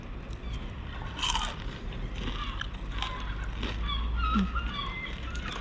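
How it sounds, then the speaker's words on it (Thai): Someone bites into crunchy fried fish and chips while camping at Whitby in England, making several close, crisp crunches and chewing sounds over a noisy outdoor background. "ฟังเสียงเลยว่ากรอบมาก"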